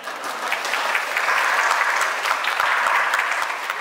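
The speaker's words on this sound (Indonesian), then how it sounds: "Pak Subung tepuk tangan di sini." Steady applause from a seated group of training participants fills the room, a dense, even wash of many hands clapping at once, with no voices over it.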